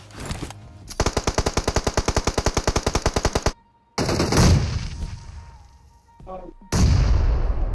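Gunfire and explosions in a mobile battle video game, with a rapid, evenly spaced burst of loud automatic fire, a brief silence, then heavy booming blasts and rumbling blasts that swell and fade, close and loud.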